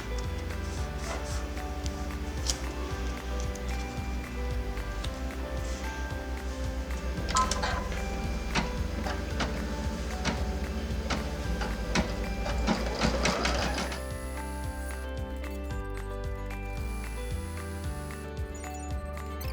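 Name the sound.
embroidery machine sewing tack down stitch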